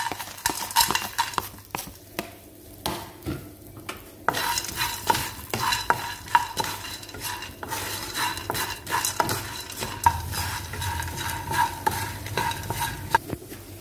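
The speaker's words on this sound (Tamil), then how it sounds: "இப்போ நம்ம இருக்கிற இந்த கொஞ்சம் எண்ணெயிலேயே நம்ம எடுத்து வச்சிருக்க இந்த வத்தல்களை போட்டு வறுத்துக்கலாம்" Dried vathal and chillies fry in a little oil, with steady spoon scraping and clinks against the pan over a soft background sizzle, close and moderately loud with no talking.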